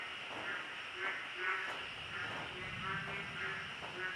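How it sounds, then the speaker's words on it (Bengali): Rain falling in the forest beside Gorumara jungle, with frogs calling in repeated rhythmic croaks over a steady wash of rain and insect noise, moderately quiet and distant. "বৃষ্টি পড়ার আওয়াজ, তার সাথে ব্যাঙের এরকম ডাক মিলেমিশে একাকার হয়ে যাচ্ছে।"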